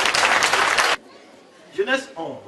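A church congregation applauding during a Sunday service: about a second of loud, dense clapping that stops abruptly, followed by a few spoken words.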